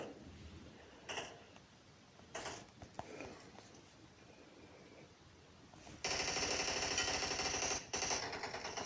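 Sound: gunfire in the video game PUBG Mobile

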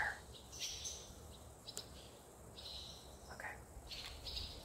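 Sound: birds calling outdoors

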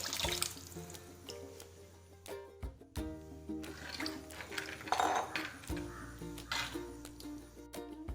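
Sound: pouring cooked lentil water into pot

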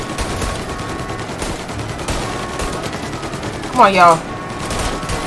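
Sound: gunfire in video game Mafia: Definitive Edition

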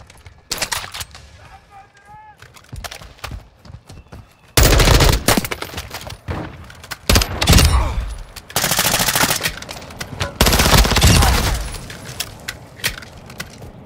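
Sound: gunfire, from a video game

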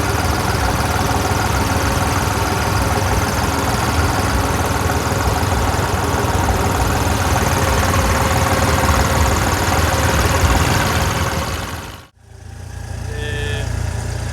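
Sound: tractor engine running

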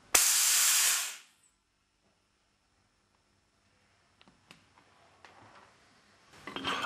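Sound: compressed air released from Alfa Laval valve actuator

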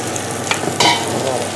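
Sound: risotto rice being stirred hard in a pan

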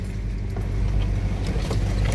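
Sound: off-road vehicle driving through deep muddy water

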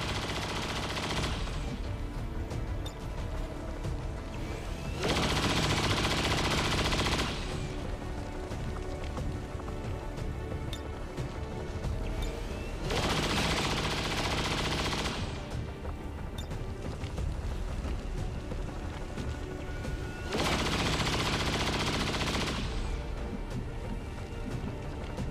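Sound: gunfire in the video game XCOM 2

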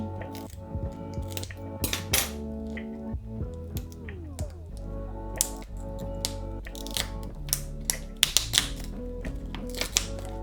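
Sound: scissors cutting plastic sausage casing mold

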